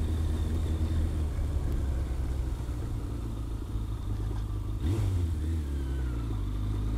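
A Suzuki RF900 motorcycle ridden at night gives a steady, loud engine rumble that runs unbroken from start to end, with a brief swell in pitch near the end.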